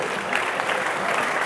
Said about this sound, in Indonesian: Tepuk tangan berarti.